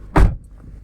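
A single solid thud of a Maruti Suzuki Baleno car door shutting nearby, short and muffled, followed by quiet.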